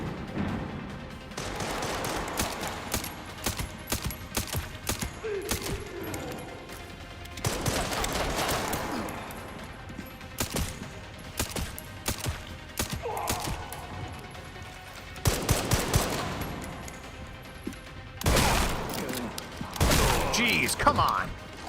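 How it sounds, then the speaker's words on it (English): Machine gun fire in Resident Evil Requiem rattles out in repeated rapid bursts with pauses, mixed with impacts and game noises, loud and close, while a person talks between volleys. "This is when you need the machine gun."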